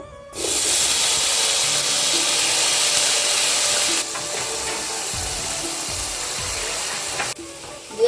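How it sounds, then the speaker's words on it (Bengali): Cut potatoes hit hot oil with a loud, steady sizzle and hiss that eases slightly partway through, continuing alone with no talking. "কেটে রাখা আলুটা এখন ভেজে নেবো"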